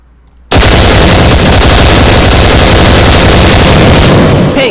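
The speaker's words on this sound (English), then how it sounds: "Paint gun" A paintball gun firing in a sustained rapid burst, loud and close, starting abruptly after a brief quiet moment and continuing without pause to the end.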